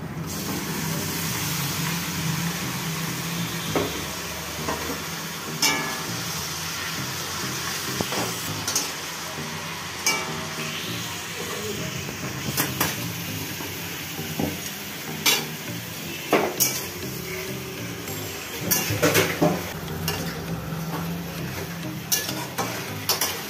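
Chicken pieces fry in a pan and get stirred. A steady sizzle runs throughout, broken by repeated scraping and clinking of a spoon against the metal pan. Close and continuous, with no talking.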